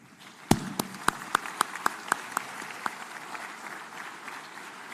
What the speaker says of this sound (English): Please stand up and give them an amazing